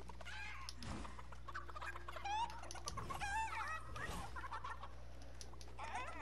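Chicken clucking in Fortnite, with several short, bright clucks and squawks around the middle of the clip over a steady game background hum.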